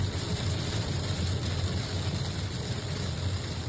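Steady roar of wind and rumbling noise from a severe thunderstorm near Oakville, Manitoba, loud and continuous, with a low throbbing undertone and no distinct thunderclaps.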